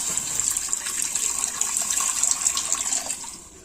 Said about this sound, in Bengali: উনুন ধরিয়ে দিয়েছি, এবারে জলটা দিয়ে দেব।